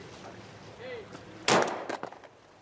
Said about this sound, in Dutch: Dat wie het 4 minuten schot.